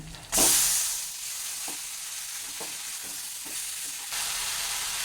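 Drained taro leaves drop into a pan of frying grated coconut with a sudden loud hiss, then a steady sizzle with a few soft stirring knocks and a slight rise near the end; no talking.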